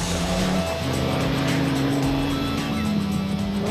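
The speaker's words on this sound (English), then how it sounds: "with the Team Castrol Toyota Hilux of Duncan Foss and Rob Howie still sounding sweet" A Team Castrol Toyota Hilux rally race truck engine droning steadily at a production vehicle rally, a loud continuous hum with slight pitch changes.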